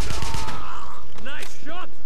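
Gunfire rattles in a burst in the video game Wolfenstein, a level set at a train station, and is followed by short, whooping synthetic effects. No voice is heard.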